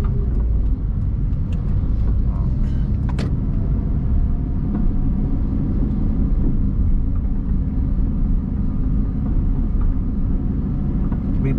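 Steady road traffic rumble at the bean street market on Oswaldo Cruz in central Itapipoca, Ceará, with cars passing continuously at close to middle distance, no voices and no breaks in the noise.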